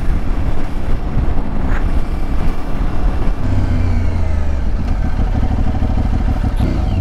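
An Aprilia Tuareg 660 motorcycle engine drones loud and close while riding, with a deep steady growl that shifts pitch midway as the rider changes speed, mixed with wind rush and rattling.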